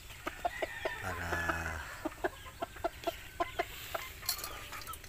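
A chicken calls with a series of short, rhythmic clucks, preceded by a longer drawn-out vocal note, close and fairly quiet.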